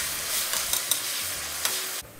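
Oil and about two tablespoons of ghee heat in a pan, giving a steady, close sizzling hiss with a few small crackles before it cuts off near the end.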